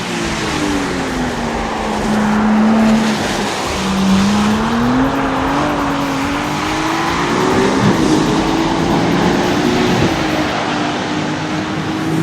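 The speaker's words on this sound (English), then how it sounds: "Let's listen to some high-speed passes on the track." Ferrari F80 hypercar making high-speed passes on a race track: a loud, sustained engine note rising and falling in pitch as the car accelerates and shifts, continuous with no talking.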